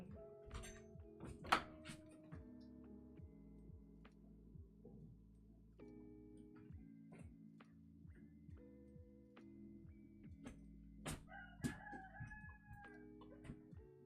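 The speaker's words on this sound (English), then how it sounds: "the rooster is so annoying. He started crowing this morning at 5 a.m." A rooster crows several times in the morning, fairly close and loud, with some clucking between calls and no talk over it.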